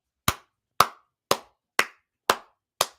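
Six sharp hand claps ring out at an even, steady rhythm, close and crisp, with silence between them and no talking.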